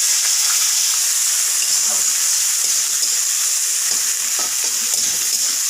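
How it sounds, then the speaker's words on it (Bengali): Onion and tomato fry lightly in oil with cumin and whole garam masala in a pan, producing a steady, dense sizzle throughout, with faint stirring rustles underneath, close and loud. "হালকা হালকা করে ভাজা করব"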